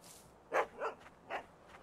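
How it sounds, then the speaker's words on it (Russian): A dog barks three times in short, fairly close yelps, then falls quiet, inside the fishing video game Russian Fishing; no one talks over it. "Тут собака есть?"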